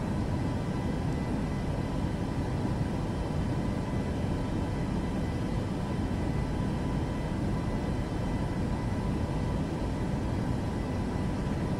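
A Boeing 737 MAX cruising in Microsoft Flight Simulator 2024, a steady, unbroken broadband roar of engine and airflow noise, constant in loudness throughout with no voices.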